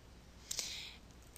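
A computer mouse clicking on a Browse button, giving two quick, faint clicks close together followed by a soft rustle, with no talk.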